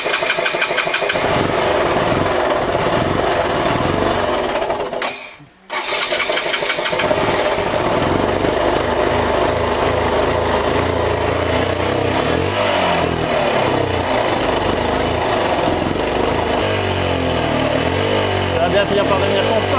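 A Suzuki DR 125 motorcycle engine that stalls without the choke restarts after a brief cutout, then idles and revs unevenly, loud and close, with someone talking over it.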